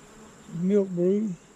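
Honey bees buzz at an open hive on a hot day, with a close, loud buzz swelling in two quick passes over about a second against a faint background hum.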